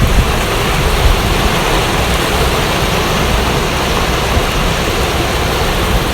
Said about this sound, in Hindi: बहुत ज़्यादा शोर है पानी का।